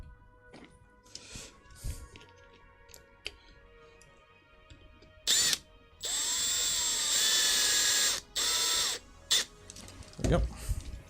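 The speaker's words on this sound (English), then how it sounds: "I'm gonna use the drill to like get him in and then just kind of do the rest by hand" A drill drives a screw into a 3D-printed tank model: one short whir, then a longer steady run and another brief burst, close and loud, after soft clicks and handling noises.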